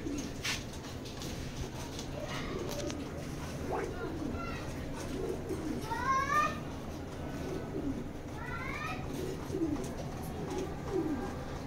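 Pigeons coo softly in a few short rolling calls, close by, over a background of constant low hum and faint room noise.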